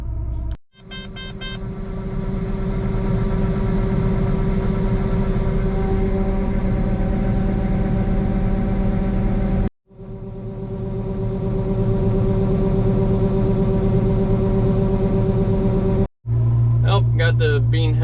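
A combine harvester with its engine running on a bean harvest gives a steady loud mechanical rumble and drone. It cuts out briefly twice, with a tonal whine over it near the start and end.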